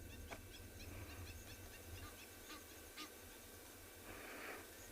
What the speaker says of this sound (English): Those was Egyptian geese, and looks like it's a mother or a father just calling.